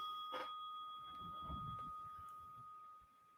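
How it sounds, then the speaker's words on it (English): A single bell rings clearly with a bright sustained tone that slowly fades over a few seconds, with faint low rustling underneath. "And there's our final bell."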